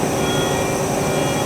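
A Haas ST-10 CNC lathe, a chucker with no chip conveyor, runs with a loud, steady mechanical roar and whine from its spindle, continuous and close.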